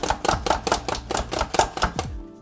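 Garlic cloves are minced with a kitchen gadget: about nine quick, evenly spaced clacking chops, sharp and close, like typewriter keystrokes, in under two and a half seconds.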